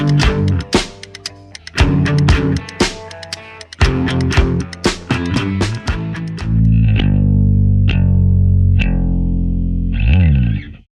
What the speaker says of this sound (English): Definitely sounds like gritty Fender Jazz